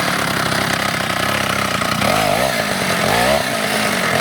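Engine of a super ATV warming up in the snow, a loud, steady, buzzing, chainsaw-like drone running continuously at close range, with a few revving swells toward the end.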